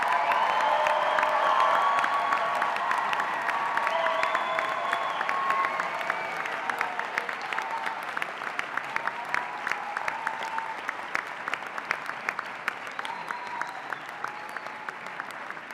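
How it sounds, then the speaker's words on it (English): Large audience at a 2017 Rockefeller College undergraduate recognition ceremony applauds its graduates: long, dense, sustained clapping that slowly thins toward the end, with a few faint cheers and voices early on. "let's have a round of applause for all of our outstanding graduates"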